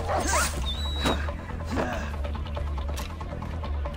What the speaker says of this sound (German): Köter, ey.